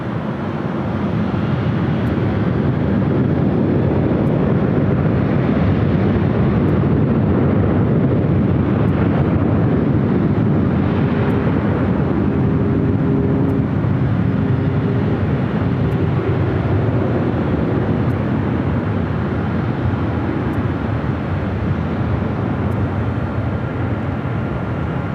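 A British Airways heavy jet takes off from runway 24 left at Los Angeles LAX, a steady, loud, sustained roar of jet engines that holds for the full duration, with a slight swell and fade.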